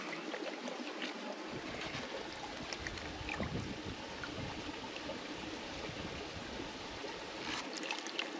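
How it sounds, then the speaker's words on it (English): Steady rushing water flows through a gold sluice box at Trout Creek Mine, washing black sand out the back, a constant close wash with no talk. "Black sand washing out the back"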